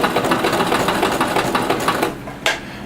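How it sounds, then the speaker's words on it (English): Sewing machine stitching along the edge of fabric for a DIY big-kids onesie bodysuit, a steady fast whirring run of stitches that stops near the end, followed by a brief click. "go ahead and continue sewing just right to the edge"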